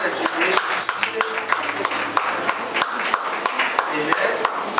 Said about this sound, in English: Clap your hands unto the Lord as you may be seated.